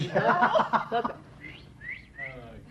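A person whistles a few short rising and falling notes, thin and fairly quiet, after a burst of laughing talk from others nearby.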